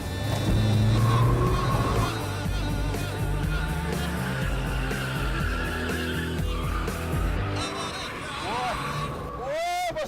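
A Toyota AE86 drifts on a track for a first drifting run, its engine loud and revving throughout with tire squeal and skidding building toward the end, while people talk in the car over it.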